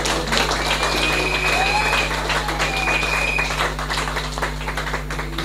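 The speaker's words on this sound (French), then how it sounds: "avec votre permission, je vais l'applaudir" A room full of people applauds steadily, dense clapping holding throughout with a constant low hum underneath.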